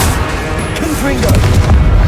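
Confringo explosive spell going off in a battle with a giant guardian in Hogwarts Legacy, a heavy booming blast within continuous loud combat noise, with a voice briefly heard.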